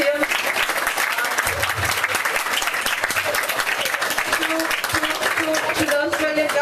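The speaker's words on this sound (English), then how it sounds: "A big round of applause to him." Applause at a health programme closing ceremony in Fiji, sustained close crowd clapping with a voice talking over it.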